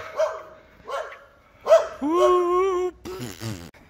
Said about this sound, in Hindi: ये कुत्ता चुप ही नहीं कर रहा